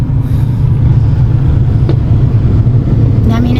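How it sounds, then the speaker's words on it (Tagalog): Heavy road traffic near Mabini, Batangas, rumbles loudly and steadily as many vehicles pass close by, with a brief hiss near the end and faint voices underneath. "Dami ng sasakyan."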